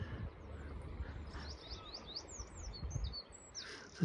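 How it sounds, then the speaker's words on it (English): Wrens sing in quick, high, twittering bursts of varied trills at Ventnor Bay on the Isle of Wight, fairly faint and some distance off over low background rumble. "Wrens singing away."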